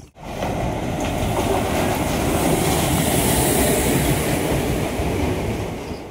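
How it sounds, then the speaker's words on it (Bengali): A passenger train arriving at a railway station platform, with a loud, continuous rumble of wheels and carriages rolling close by, steady throughout with no talk. "আমাদের ট্রেন আসবে ঠিক এই নম্বর প্ল্যাটফর্মে, এবং ট্রেন চলে আসছে"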